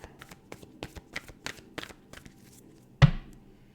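A Moonology oracle card deck is shuffled in quick riffling bursts of close, crisp card slaps, ending with one louder thud as the deck is set down.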